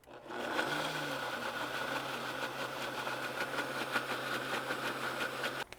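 Countertop blender on its puree setting whirring steadily through chopped vegetables, a continuous close motor drone with a rough grinding texture that holds from start to finish without pause.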